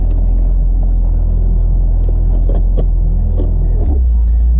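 A 1980 Fiat Spider with a rebuilt suspension and driveline pulls away, its engine a loud, close, low rumble that steadies and then drops in pitch, with someone talking over it.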